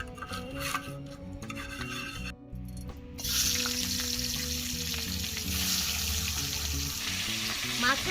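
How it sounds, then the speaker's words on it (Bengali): Hot oil sizzles and crackles steadily in a wok, growing louder and brighter partway through as a fish head hits the pan, continuing without pause over a low background hum. "মাছের মাথা ভেজে নেব তেল দিয়ে দিলাম"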